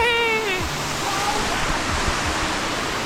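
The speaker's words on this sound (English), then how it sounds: "The waterfall." A waterfall roars as a dense, steady rush of broadband noise from a side-canyon lookout, with a brief rising, voice-like tonal cry at the very start before the even wash continues.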